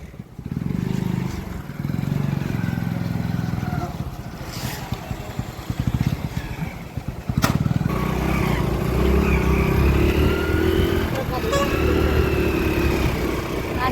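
A vehicle's engine runs close by as it is turned around and then driven off, idling and shifting at first, then revving louder and pulling away steadily.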